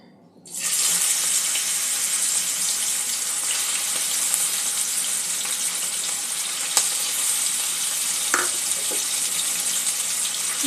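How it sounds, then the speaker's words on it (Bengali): Prawns marinated in salt and turmeric fry in mustard oil in a kadai, a loud, steady broadband sizzle that starts abruptly and holds continuously, with a few faint clinks near the end. "কড়াতে আমি পরিমাণ মতন সর্ষের তেল দিয়ে দিয়েছি। এখানে চিংড়িটা নুন হলুদ দিয়ে ম্যারিনেট করে রেখেছিলাম। চিংড়িটা আগে একটু ভেজে নেব।"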